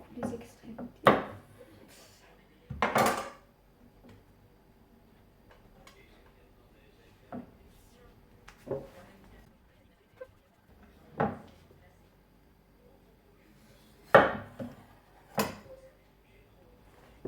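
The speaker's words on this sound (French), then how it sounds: "on va retirer les extrémités au couteau en espérant que ce soit un bon couteau" A knife cuts through the ends of an aloe vera leaf, giving a few sharp, separate chopping clicks against a board, spaced irregularly with quiet gaps between.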